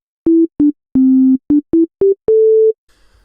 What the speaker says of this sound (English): what we have here is just a regular sine wave